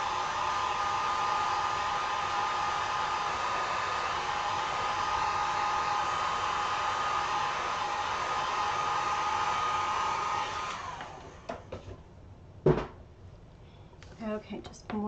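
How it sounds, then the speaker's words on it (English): A hair dryer blows steadily and close for about eleven seconds while drying acrylic paint on a pilgrim girl sign, then cuts off, leaving a few handling clicks and light knocks. "I'm just going to do a quick little blow dry here."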